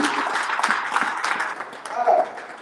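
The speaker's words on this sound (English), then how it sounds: "Please, when I call their name, you can please give them a big hand clap." An audience applauds and claps for two pastors at a church gathering, a steady wash of clapping lasting a few seconds with a voice speaking over it.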